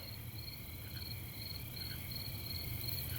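Steady crickets chirping in a continuous, high trilling chorus, fairly faint, with a low background hum and no voices.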